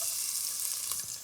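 Half an onion sizzles in a splash of hot extra virgin olive oil in a thermo cooker for a Mexican lentil stew, a steady close hiss of frying with no talk.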